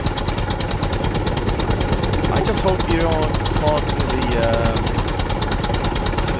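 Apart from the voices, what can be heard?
tractor engine running in the video game Scum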